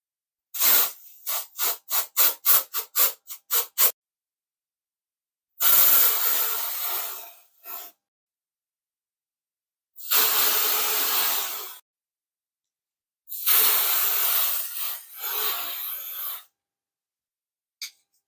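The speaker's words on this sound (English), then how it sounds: "shake the bottle and spray it about 12 inches from your roots" Four dry shampoo aerosol sprays hiss out in bursts of about two seconds each, preceded by a quick series of short rattling shakes from the can.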